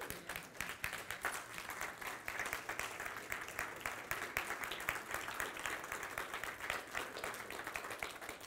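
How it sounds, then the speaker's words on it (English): A standing church congregation claps and cheers for two people called up front, producing a dense, sustained roar of applause that continues evenly and fairly loud throughout. "Stop clapping, okay?"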